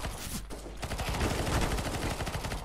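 AK rifle firing fully automatic in Counter-Strike: Global Offensive, a rapid continuous burst of close, loud shots with a short gap early on before the stream of fire resumes.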